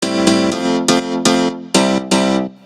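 Loud piano chords without multi-band compression strike six times in an uneven rhythm, each bright, full attack ringing briefly before the next, alone with no voices.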